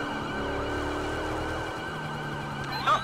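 Several police and emergency sirens wail in overlapping sweeping tones inside the game GTA V with the LSPDFR mod, loud and continuous, with engine rumble underneath.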